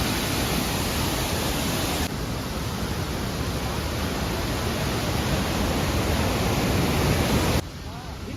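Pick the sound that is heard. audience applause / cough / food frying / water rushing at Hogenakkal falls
water rushing at Hogenakkal falls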